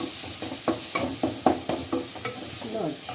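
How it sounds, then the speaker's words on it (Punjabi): Masala roasts in a pan, sizzling steadily while a spatula stirs it in a regular rhythm of soft scraping strokes, close and moderately loud. "ਇੱਧਰ ਭੁੱਜ ਗਿਆ ਸਾਡਾ ਮਸਾਲਾ"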